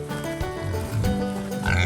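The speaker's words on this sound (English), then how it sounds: "the Mangalitsa pig." Mangalitsa pig grunting in a series of low, rough snorts and grunts, close by and fairly loud, continuing throughout with a few higher squeal-like notes near the end.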